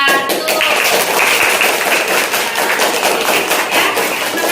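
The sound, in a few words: class clapping for group 1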